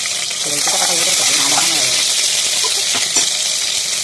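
Ginger paste hits fried onions in a hot pan with a loud, continuous sizzle, spatula scrapes and stirring clatter breaking through, while a voice talks faintly underneath.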